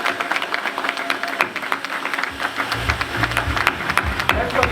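Applause from the audience at a strategic plan launch ceremony, scattered crisp claps over a busy room, joined midway by a low rumbling hum underneath.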